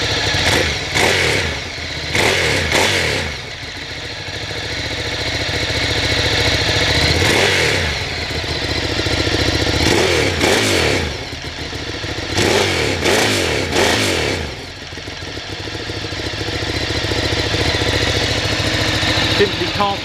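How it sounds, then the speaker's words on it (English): A Ducati Streetfighter 848 V-twin idles with a lumpy beat, then its exhaust barks through several sharp throttle blips that rise and fall, loud and close by, with a voice speaking between some of the revs. "Just give the exhaust a quick flip, give you an indication of how they sound"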